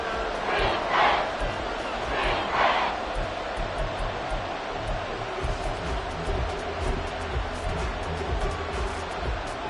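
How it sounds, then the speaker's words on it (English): A football stadium crowd roars steadily ahead of a big third down, a dense, continuous wall of noise with a couple of louder swells of cheering early on, heard alone without any clear talk. "The crowd getting into it as we come up on a big 3rd down."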